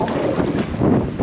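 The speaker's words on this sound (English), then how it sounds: "Obviously, you can tell it's pretty windy." Strong wind buffets the microphone at a lakeside campsite on the Bowron Lakes canoe circuit in British Columbia, a loud, steady rumbling roar with gusting swells and no clear breaks.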